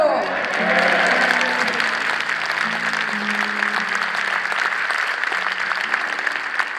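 A church congregation applauds in a dense, sustained wash of clapping, with a voice speaking faintly underneath at the start.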